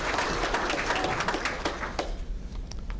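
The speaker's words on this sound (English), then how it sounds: "I will hold for applause" Audience applause at a university awards banquet and hall of fame event, a short burst of scattered clapping that thins out within a few seconds.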